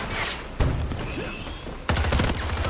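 Bursts of M16A3 rifle fire in the shooter game Battlefield 2042, two loud volleys of rapid shots separated by a quieter stretch, with no talk over them.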